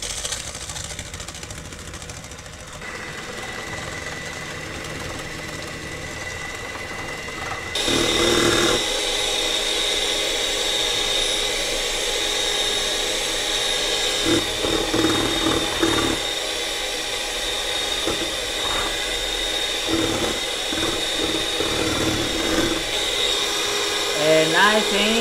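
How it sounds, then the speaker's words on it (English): An electric hand mixer whirs steadily as it beats egg whites with sugar for an Italian tiramisu, starting at a low hum and jumping to a louder, higher, continuous buzz partway through, with brief quiet talk near the start. "Now we do the same with the egg whites. We add the rest of the sugar to help ourselves, and we start slowly,"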